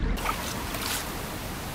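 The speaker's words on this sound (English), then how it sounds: "flicking water everywhere" Water splashing and spattering as a river pike thrashes while being unhooked, a brief loud wet burst close by with no talking.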